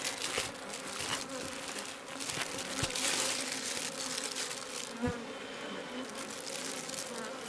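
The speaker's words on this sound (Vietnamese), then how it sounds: "Mùa này mọi người cứ hiểu đơn giản là ong rất là hăng nhá." Honey bees swarm in a dense, continuous buzz around a wide wild hive in a flowering season when they are aggressive. The buzzing is steady and fairly close, with a few sharp knocks and no voices.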